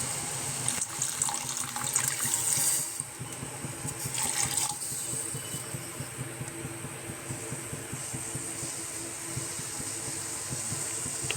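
Milk pours into a pot of tea with ginger in a village kitchen, a continuous close splashing gush that surges early and then settles into a steady liquid rush, with no talk.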